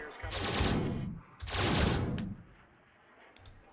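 Condor interceptors launching missiles in the strategy game Xenonauts: two loud, broad whooshing bursts about a second apart, each trailing off, then a faint click.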